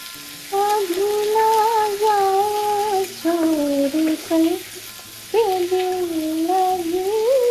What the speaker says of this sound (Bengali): বেশি ভাজবো না, বেশি ভাজলে তেতো হয়ে যাবে বড়ি।